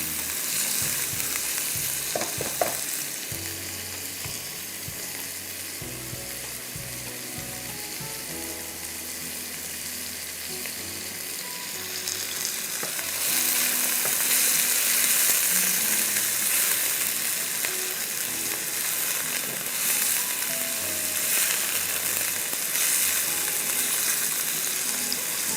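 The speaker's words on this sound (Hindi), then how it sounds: "अब चिकन को हमें 5 मिनट फ्राई करना है, जब तक कि चिकन" Chicken pieces frying in a pan for BBQ chicken spaghetti, a continuous crackling sizzle with occasional stirring knocks early on, the hiss swelling louder partway through and staying steady to the end.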